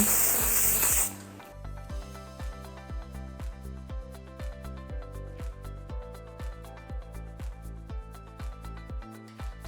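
A short, close, loud hiss of wax hair spray sprayed onto hair, followed by a steady rhythmic pulsing beat that continues to the end.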